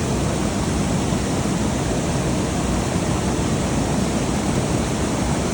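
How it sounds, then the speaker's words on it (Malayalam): The main waterfall on the way to Amaravathi dam pours continuously, a loud, even, close roar of rushing water with no pauses and no voices. "ഇതാണ് മെയിൻ വാട്ടർഫാൾ"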